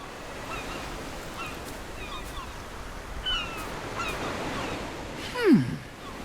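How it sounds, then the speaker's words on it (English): Ocean waves in the video game AFK Journey, a soft steady surf wash at moderate distance, with a brief bird-like honk or swoop near the end. "Why is there so much water over there? Hey, don't get too close. That's the ocean."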